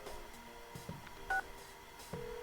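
A telephone number is dialed in a video game, a short run of separate keypad tones sounding one after another, clear and close over a quiet background.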